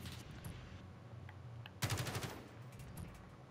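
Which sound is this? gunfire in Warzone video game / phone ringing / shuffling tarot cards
gunfire in Warzone video game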